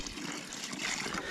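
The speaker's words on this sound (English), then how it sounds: "you pour a little water in the hole" Water poured from a bucket into a freshly dug hole in the ground on an off-grid homestead, a steady close splashing trickle lasting throughout.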